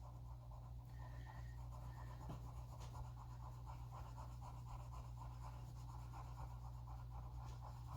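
A watercolor pencil scratches softly across plain white cardstock, coloring in leaves in Granny Apple Green with faint, steady strokes over a low background hum.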